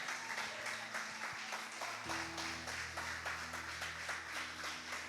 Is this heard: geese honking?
no